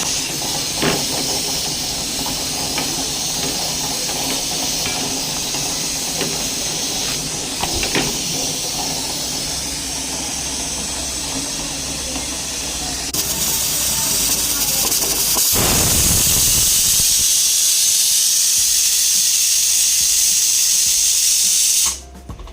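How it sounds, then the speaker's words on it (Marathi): Tea boiling in a pot on a home stove in a tin-roofed house, giving a steady loud hiss and bubbling that intensifies partway through before cutting off abruptly near the end. "तर इकडं छान असा चहा उकळतोय"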